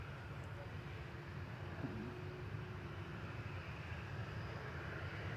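An EVA Air airliner departing Manchester Airport gives a steady, distant jet roar with low rumble throughout, unbroken and even in level.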